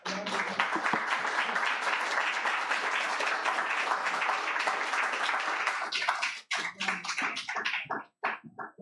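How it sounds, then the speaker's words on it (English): Audience applause at a book and community celebration for writers, a dense sustained clapping that fills the room for about six seconds, then thins into scattered claps and a few voices before fading out. "One more round of applause for Noel, please."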